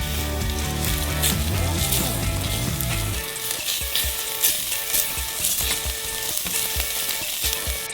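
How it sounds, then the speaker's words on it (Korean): Cheese is broken up and stirred in a pan over low heat with orange dye, baking soda and salt, soft continuous sizzling and scraping with irregular taps of the utensil over a background of music. "낮은 열에 치즈를 계속 부수면서 섞어줘요."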